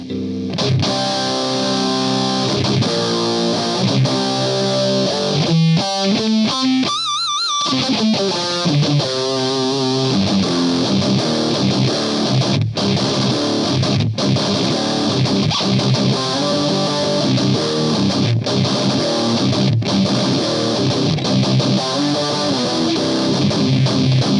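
An electric guitar played through a BBE Blacksmith metal distortion pedal with the knobs turned up, giving dense, heavily saturated chords and riffs that stay loud throughout, with a brief choppy break in the middle.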